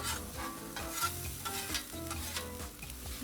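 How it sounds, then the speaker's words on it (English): Chili, ginger and garlic sauté on a Blackstone 22-inch griddle, with a spatula scraping and stirring in quick repeated strokes over a constant close sizzle, with no voices. "This is going to be a real quick 1 minute saute basically of the chili, ginger, and the garlic."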